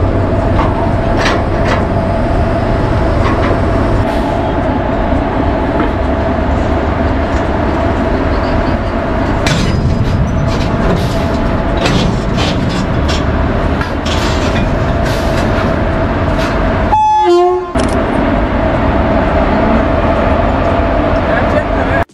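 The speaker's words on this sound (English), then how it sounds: "The locomotive pushes or pulls the cars to their required positions with the help of shunting staff" A locomotive shunts railway coaches in an Indian Railways yard, with a steady loud rumble of rolling wagons, scattered metallic clanks and a brief sharp screech toward the end, while a voice talks over it.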